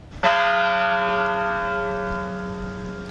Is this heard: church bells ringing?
yes